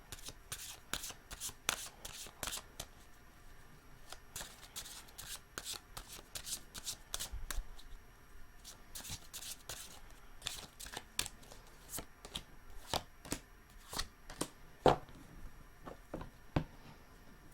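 Tarot cards are shuffled repeatedly in quick riffling bursts, crisp and close, with short pauses between rounds and no speech.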